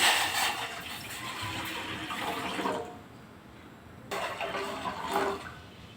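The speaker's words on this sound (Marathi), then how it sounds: "सर्वात अगोदर गॅसवरती एक भांडं ठेवायचं आणि त्या भांड्यामध्ये आपल्याला पाणी टाकायचं." Water pours into a pot sitting on a gas stove in a home kitchen, a loud splashing rush that pauses briefly and then resumes.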